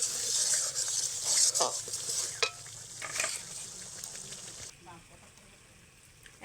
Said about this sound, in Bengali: মশলার সঙ্গে দু মিনিটের মতন কষে নেব যাতে ভালোভাবে মশলাগুলো ডিমের মধ্যে ঢুকে যায়